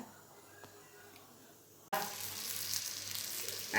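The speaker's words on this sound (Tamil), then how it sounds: "இப்போ நல்லா ஃப்ரை ஆயிடுச்சு." Pieces of boiled egg fry in a pan for an egg masala gravy: a quiet start, then a sudden loud, dense sizzle from the pan that holds steady to the end, with no talking.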